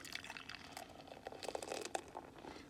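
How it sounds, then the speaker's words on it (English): Liquid poured straight into a glass, steady close splashing and gurgling with small fizzy pops, fairly quiet and continuous. "That's because I'm just pouring it straight in"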